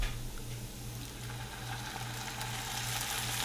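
Diced green chilies and sauteed onions sizzle in a pan with a soft, steady crackle that holds evenly throughout, close by and with no talking.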